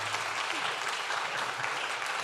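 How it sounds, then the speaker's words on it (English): At a campus and community radio awards gala, an audience claps steadily in a hall, a dense, even wash of applause without speech. "Everybody, give her a round of applause."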